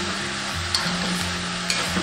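Pork ribs and pickled mustard greens stir-fried together in a wok, a steady close sizzle with soft scraping stirs and a couple of light spatula clinks, no talking.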